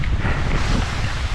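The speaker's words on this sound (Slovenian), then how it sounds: "Tole danes še piha ful" Strong wind gusts at a mountain ski resort short on snow, roaring steadily close to the microphone with heavy low rumble and buffeting and no voices.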